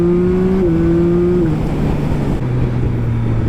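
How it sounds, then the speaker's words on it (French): The three-cylinder engine of a 2021 Yamaha MT-09 SP motorcycle hums steadily and loudly on the road, its pitch stepping down a few times as it eases off. "Je vais faire profiter du son du 3 cylindres."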